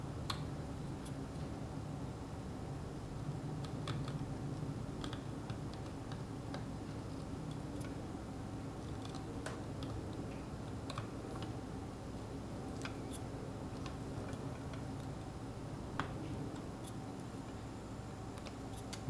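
Faint, irregular ticks and light scratching from a hand engraving tool cutting a seal in engraving style, steady and quiet throughout with no talking.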